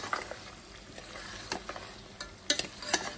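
Tomatoes being stirred into a mutton and potato curry in a pan, with faint scraping and soft clicks of a utensil coming at irregular moments over a low background hiss.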